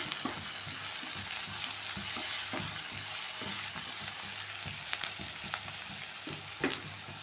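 Steady sizzling of onion and capsicum frying in a hot pan, with occasional soft scrapes and stirring clicks from a utensil.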